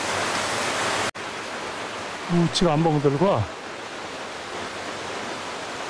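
Broadband rushing of a waterfall in a mountain valley on the way to the twelve falls near Jujeon Falls and Osaek, steady and loud throughout, with someone talking briefly over it.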